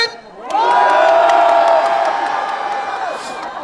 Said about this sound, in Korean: 남성분들 함성 들어보겠습니다